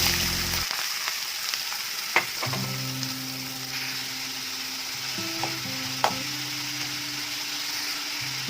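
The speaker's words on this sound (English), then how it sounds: "Once the oil is warm enough, add onions." Onions fry in warm oil in a pan for an Andhra-style fish pulusu, a steady close sizzle with a few sharp clicks of stirring. No one speaks.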